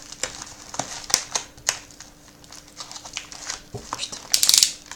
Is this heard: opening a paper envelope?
yes